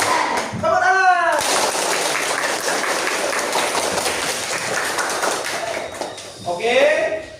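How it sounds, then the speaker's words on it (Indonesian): A school class claps hands together in a burst of dense, fast applause lasting several seconds, bracketed by a teacher's voice speaking before and after. "Tepuk tangan."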